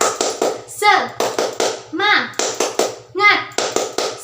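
Schoolchildren in a classroom clap a quick rhythmic pattern together, sharp claps in bursts, with young voices chanting between the claps.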